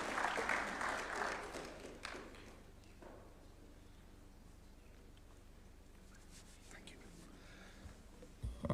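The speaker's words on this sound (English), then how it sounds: "Let's welcome him with a warm clap, please" Applause from an audience welcoming a speaker at a Kenyan national vision unveiling, a brief burst that fades within about two seconds into a quiet, murmuring hall with faint shuffles.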